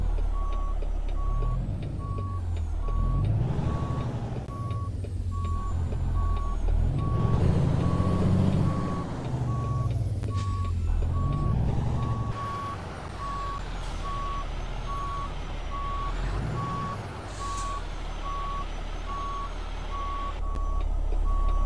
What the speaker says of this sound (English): I'm not the greatest at backing up trailers